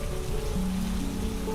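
Gentle rain falls continuously in a soft, even patter with a few faint tonal hums underneath and no voices.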